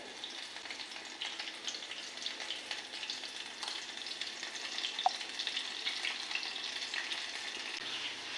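Mushrooms coated in gram flour batter frying steadily in hot oil, a continuous even sizzle throughout with one small sharp pop midway, no voices.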